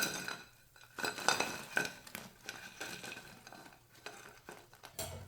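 Fried gram flour pakoras are tipped from a metal strainer onto a plate, with soft clinks, scrapes and rustling, quiet and close.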